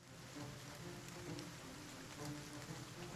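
Rain falls in the Food For Crows video game, a soft, steady patter and hiss that stays faint and even throughout, with no voices.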